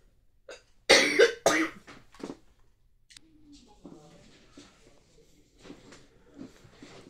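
A couple of loud, sharp coughs close by, followed by quieter throat sounds and soft murmuring voices in the background.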